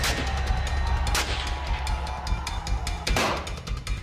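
Bursts of gunfire echo through a city street during armed clashes in Karachi, Pakistan, with a dense rumble of cracks and a couple of louder bangs over steady noise.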